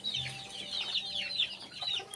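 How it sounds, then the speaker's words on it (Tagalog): Pet chickens cluck and chirp softly at close range while eating banana leaves and Madre de Agua leaves, a busy chatter of short calls over about two seconds. "bago kami umalis, mirindal muna ko sa aking mga alagang manok"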